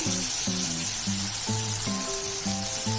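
Masala sizzling in oil in a pan for dhaba-style kaju masala, a constant soft hiss running beneath louder music with stepped tones.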